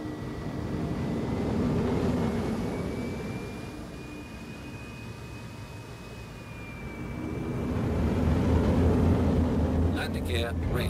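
Star Citizen spaceship engines during takeoff give a steady, broad rumble with a thin high whine that rises and holds. The roar swells, eases midway, then builds again before brief clatter at the end.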